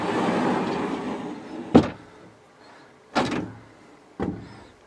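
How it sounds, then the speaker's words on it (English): A pocket door in a bedroom doorway slides along its track in three separate pushes, each a short scraping rumble with a soft knock, close and fairly quiet in a still room. "So now the door's open."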